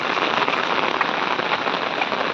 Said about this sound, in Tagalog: Grabing sobrang ulan dito sa amin